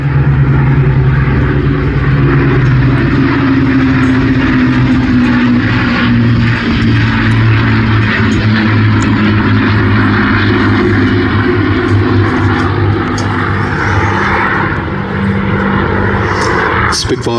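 Battle of Britain Memorial Flight propeller warbirds, among them a Lancaster, Hurricane, Spitfires, a Dakota and de Havilland Chipmunks, fly over at the Midlands Air Festival 2025, a loud, continuous, rumbling piston-engine drone that holds steady throughout.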